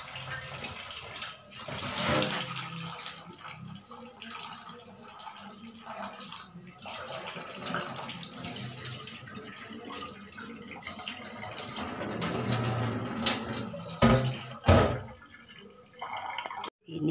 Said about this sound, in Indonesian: Sekarang cuci-cucikan dia guys.